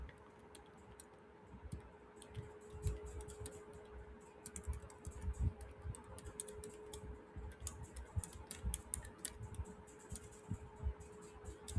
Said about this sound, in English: Suppose I'm typing an email.